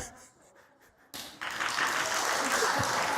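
Applause from a temple audience at a dharma talk swells in abruptly after a quiet moment, becoming a dense, continuous wash of many hands clapping that holds steady and fairly loud, with a voice briefly audible beforehand.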